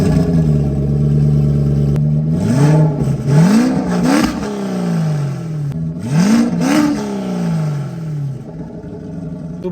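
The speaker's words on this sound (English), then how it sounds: "when you rev it and it hits rev limiter, you're just like a clown." Car engine revving repeatedly and hitting the rev limiter: steady idle, then two sharp rising revs that bounce and stutter at the limiter before falling back, loud and close with no talk.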